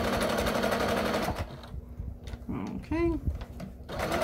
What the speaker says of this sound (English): I am sewing around